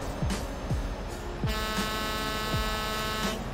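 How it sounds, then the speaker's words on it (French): Deep, steady droning hum of a heavy truck engine in Euro Truck Simulator 2, continuous and loud, with a low rumble that shifts pitch a few times. "c'est vraiment le bruit classique des gros camions comme ça"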